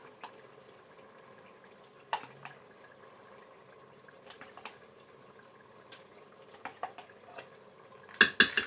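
Keema and yogurt are stirred in a pot, with a soft, quiet scraping and occasional light clinks of a spoon against the metal. The clinks grow a little more frequent and louder toward the end.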